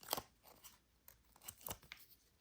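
Scissors snip through paper in a few quick, faint cuts at an uneven pace, each a short crisp crunch in a quiet room.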